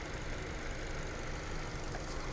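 Hyundai Accent 2020 car engine idling with the air conditioning on, a steady close-miked mechanical hum and rattle that stays even throughout with no talking.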